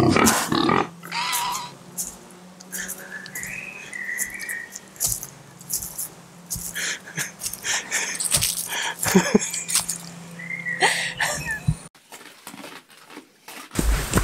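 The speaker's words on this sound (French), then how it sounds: "T'as des cochons." Pigs grunt outdoors along a trekking trail. Their snorts and squeals come in irregular bursts mixed with rustling and handling noises close to the microphone.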